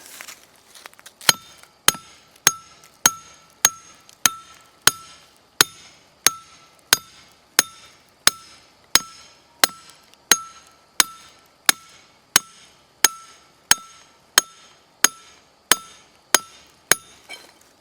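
A hammer drives a metal coyote trap anchor into the ground with about twenty sharp, ringing blows at an even pace, each strike loud and close, alone without talk.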